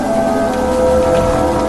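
Steady rain pours in the Evil Nun video game, a dense continuous hiss with a low hum underneath, loud and unbroken with no voices.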